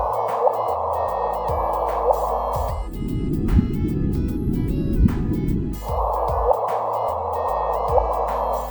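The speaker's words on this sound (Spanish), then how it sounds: "En 2003, la NASA grabó las ondas sonoras de un agujero negro ubicado a 250 millones de años luz." NASA recording of sound waves from a black hole 250 million light-years away, pitched up 57 octaves: an eerie, continuous synthetic drone with alternating blocky low and mid bands and faint dripping, squelching textures, steady and loud throughout.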